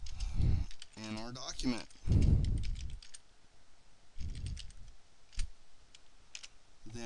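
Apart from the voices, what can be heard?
typing on a computer keyboard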